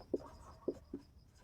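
A word is handwritten on a page, with three short scratchy pen strokes close by, spaced unevenly over a second and a half, quiet and with no voice.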